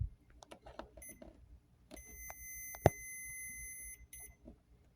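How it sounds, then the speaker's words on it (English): A multimeter's sharp continuity beep sounds twice, sustained for a moment each time, amid quiet clicks and handling noises while testing a CB antenna bracket ground on a truck. "the multimeter is going to beep"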